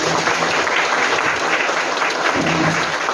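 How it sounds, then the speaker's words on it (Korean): An audience at a Korean talk event claps in steady, dense applause that runs without a break throughout, fairly close and loud. "다시 한번 감사의 말씀 네 드렸다는 의미로 박수."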